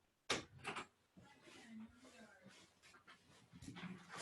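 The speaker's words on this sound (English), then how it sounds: "The dog got trapped in the room and he was starting to whimper." A pet dog whimpering and panting after getting shut inside a room, short whines and yips coming in bursts close by, with a person talking over parts of it.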